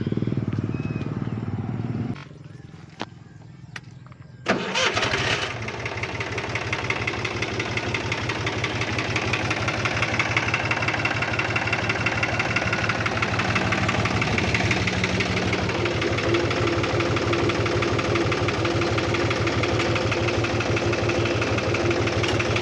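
A Mahindra B 275 tractor engine comes to life after a few seconds of quiet handling noises, then settles into a steady, loud diesel idle with a knocking chug that carries on close by.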